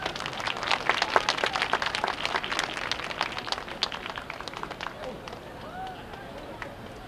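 Audience at the opening ceremony of a Taiwanese American cultural festival applauds its community leaders, a steady patter of many hands clapping with scattered whoops, fading toward the end.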